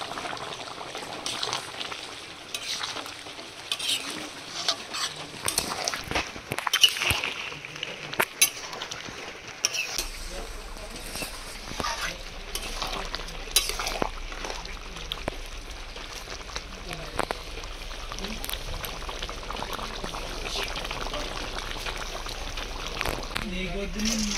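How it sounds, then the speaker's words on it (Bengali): Chicken curry cooked with whole chillies bubbles in a pot after garam masala goes in, with a steady simmer and occasional stirring scrapes and clinks; a voice talks over the cooking throughout. "মাংস রান্না হয়ে গেছে, এবার গরম মশলা দিয়ে 1 মিনিট ফুটিয়ে নামিয়ে নেব।"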